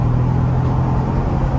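A 2023 Ford Bronco Outer Banks pulls away from a complete stop under throttle, its engine giving a loud, steady, droning roar close to the microphone with no one talking.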